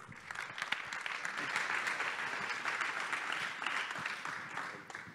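Applause at a business startup conference event, a fairly faint but even patter of many hands clapping throughout, rising a little in the middle and easing slightly at the close.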